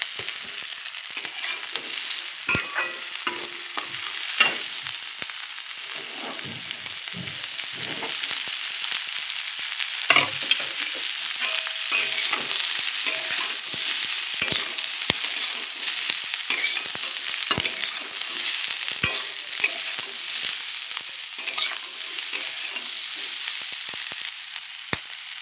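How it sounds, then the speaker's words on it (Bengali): Capsicum and mixed vegetables stir-fry in a hot pan, a steady close sizzle broken by repeated scraping and clattering strokes as the vegetables are tossed and stirred. "আমি এটা ভাজা করে নিই"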